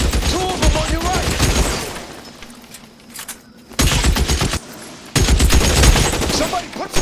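Heavy gunfire rattles through a shootout in the video game L.A. Noire, rapid bursts crowding the foreground in two loud stretches separated by a quieter lull, with voices shouting over the shots.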